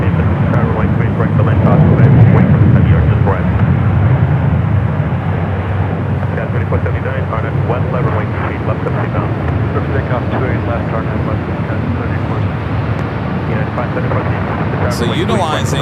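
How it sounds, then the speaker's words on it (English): A Turkish Airlines jet taxiing toward runway 28 at San Francisco airport, bound for Istanbul, gives a steady loud rumbling roar that holds throughout, with a voice talking over it. "Now heading down to the 28s. The flight heading back to Istanbul"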